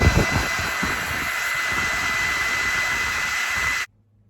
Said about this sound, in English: I'll take a hairdryer on the warm setting